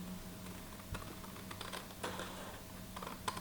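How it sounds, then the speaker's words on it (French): Scissors cutting paper along a fold for a Halloween album craft, soft irregular snipping and crisp clicks, close and quiet over a steady low hum, with no talking. "Je prends mon ciseau et je coupe le long du pli"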